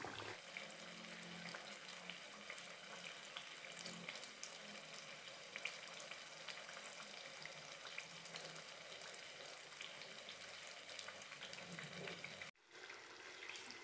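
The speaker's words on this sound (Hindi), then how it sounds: "इसको ब्राउन होने तक हम लोग फ्राई करेंगे।" Thekua, a sweet snack for Chhath, deep frying in oil, a faint continuous bubbling hiss with soft crackles running steadily, then a brief cut before it resumes, no talk.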